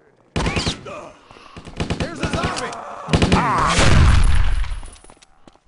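Bursts of gunfire in the zombie game Stubbs the Zombie, sharp shots rattling off amid clangs and impacts, with a voice speaking over the first part and the firing growing heavier toward the end.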